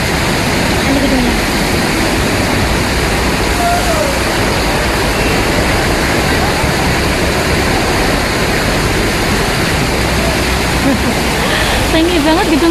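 Water fountain in Golden Bauhinia Square in Wan Chai, Hong Kong, splashing as a loud, steady rushing wash throughout, with a person's voice talking over it at times.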